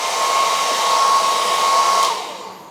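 A hairdryer blows steadily and close with a constant whirring hiss and a thin whine, warming a plastic S.H.Figuarts One Piece figure to soften it, then winds down as it switches off.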